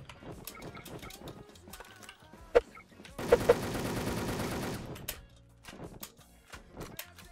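Sustained automatic gunfire from a first-person shooter, a rapid burst of roughly a second and a half after a few isolated shots, loud against a busy game soundscape with more single shots scattered through.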